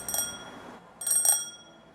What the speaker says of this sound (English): a fab bike bell on handlebars to ring for service